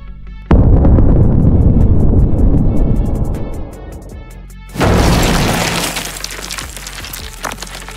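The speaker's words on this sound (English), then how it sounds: "Then came fire from the sky, a meteor of destruction, crashing into the heart of the realm." An AI-generated sound effect of a meteor crashing: a huge sudden explosive boom with deep rumble that slowly decays, then a second loud crackling burst full of debris and shattering noise.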